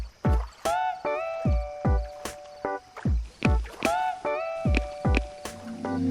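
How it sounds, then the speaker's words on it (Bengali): A rowing boat with a boatman at the oars approaches across a river, making a regular rhythm of oar strokes, each a splash followed by a creaking, tonal note, close and clear with no talk. "ওই তো একটা নৌকা আসছে, মাঝি ওপারে যাব।"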